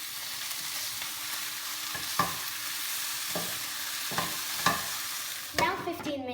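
Red peppers cook in a covered pan with turkey steak nearby, a steady sizzle running under several sharp scraping stirs and a clatter near the end.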